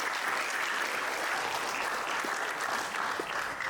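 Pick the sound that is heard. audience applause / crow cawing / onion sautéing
audience applause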